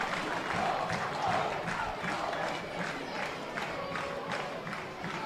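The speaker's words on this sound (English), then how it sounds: "a deserved ovation from the Comer stand here at Eamon DC Park" A football stadium crowd in the Comer stand at Eamon Deacy Park gives an ovation to a substituted United player during Galway versus Longford, a broad, sustained roar of clapping and cheering at steady volume throughout.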